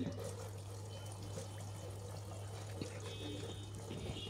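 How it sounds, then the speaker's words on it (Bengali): Water trickles and pours quietly into a bowl of batter for fried eggplant fritters (beguni), faint and continuous, with a low steady hum underneath. "আর একটু পানি দিয়ে নিলাম।"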